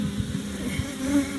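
Honey bees droning around an open hive during a first inspection of wax comb holding pollen and bee bread, a steady close, low buzz with no one talking.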